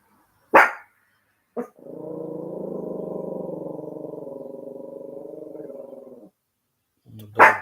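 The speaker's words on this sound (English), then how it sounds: "My dog going crazy." A dog barks indoors: two sharp, loud barks, then a long drawn-out howl lasting several seconds, followed by another bark, each standing alone with no talk.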